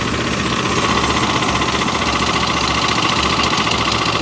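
A Frontier OS23 portable sawmill's strong engine idles with a steady, rapid knocking pulse while the blade keeps turning, loud and close with an even, unbroken mechanical rattle.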